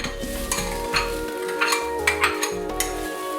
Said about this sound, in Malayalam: ചീനച്ചട്ടി അടുപ്പിൽ വെച്ച് നമ്മൾ ചുരണ്ടി വെച്ച തേങ്ങ അതിലിട്ട് വറുത്തെടുക്കാം